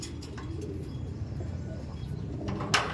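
A racing pigeon coos softly and steadily through a low, continuous murmur, with a sharper brief noise near the end.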